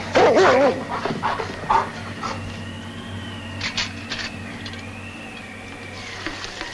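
Sled dogs bark and whimper up close, with a yip-laden burst at the start followed by scattered whines and yelps over a low steady hum, with soft music behind.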